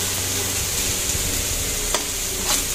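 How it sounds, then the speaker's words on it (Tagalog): Ginger and garlic sauteing in a pan, garlic browned deep, giving a steady close sizzle with light stirring scrapes and a couple of brief utensil clicks. "Luya, tsaka bawang yung aking ginigisa ko lang."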